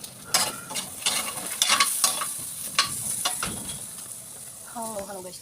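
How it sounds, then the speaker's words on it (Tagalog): Ginger, garlic and onion are sautéed in a pan for sweet and sour tilapia. A steady sizzle runs under repeated sharp clacks of stirring, and a voice speaks briefly near the end. "At doon ko ginisa yung luya at bawang sibuyas."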